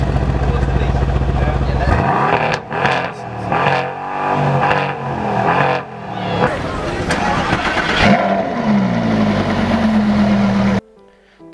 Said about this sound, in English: I filmed some video of a few cars which are revving their engines and they picked up really well on my camera's mic.